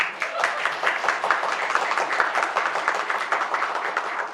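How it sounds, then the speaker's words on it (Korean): An indoor audience at a national quality-circle competition gives steady, moderately loud applause of many hands clapping to welcome children onstage, a continuous patter without voices. "아이들이 인사할 때 뜨거운 박수로 환영해 주셨으면 감사하겠습니다"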